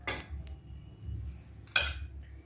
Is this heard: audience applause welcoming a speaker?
no